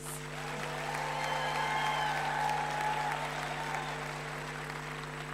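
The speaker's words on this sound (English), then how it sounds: "please give them another big round of applause" Steady, broad applause from a graduation ceremony audience honouring the graduates, swelling slightly mid-way and continuing evenly over a faint steady hum in a large hall.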